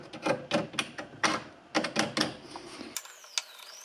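A hand tool works old screws loose on an antique sideboard, a run of dry ratcheting clicks and scraping turns in short bursts, fairly close, with a brief higher whine near the end.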